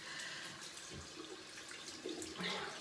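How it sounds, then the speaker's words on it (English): Tap water runs steadily while hands are rinsed under it, a soft continuous splashing with a few louder gurgles near the end, close by and with no voices. "Then I wash my hands"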